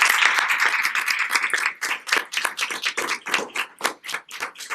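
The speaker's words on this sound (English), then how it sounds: "Let's give her a round of applause." Applause for a student at a school board meeting, a small group clapping close and crisp, dense at first and then thinning into scattered claps.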